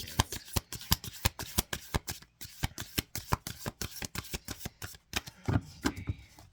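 A fairly new, stiff Moonology oracle card deck being shuffled by hand, a rapid string of crisp, close riffling snaps in an even rhythm, roughening into a looser shuffle near the end; nobody speaks.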